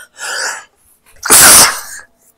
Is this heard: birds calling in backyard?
no